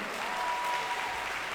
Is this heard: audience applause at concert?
yes